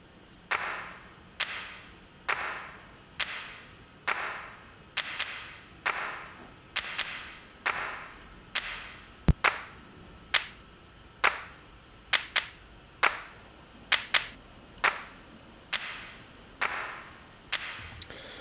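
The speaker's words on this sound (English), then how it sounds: "I'll just play the clap actually, just so you can hear it." A reverb-processed clap sample in a trap beat made with Maschine 2 and Logic Pro X repeats about twenty times, each crisp hit trailing a short wide reverb tail, played alone in a steady rhythm with a few quick doubles.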